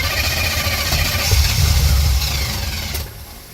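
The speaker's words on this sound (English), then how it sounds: "we're going to try flood recovery mode, where it's where you floor the throttle and then try to start the vehicle" An OBS truck engine cranks with the throttle floored in flood recovery mode, a loud, rough, churning turn-over lasting a few seconds before cutting off.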